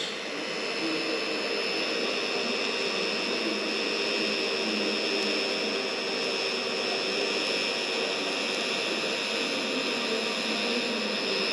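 TIG welding on a turbo exhaust pipe for a K20-engined EP3 Type R, giving a steady, continuous close-up buzzing hiss with a constant level throughout and no talking.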